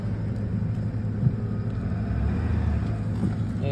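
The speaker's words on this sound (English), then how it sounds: "Car can go backwards." A car reversing produces a steady low engine rumble that runs close and even throughout, with a slight bump partway through and no talking.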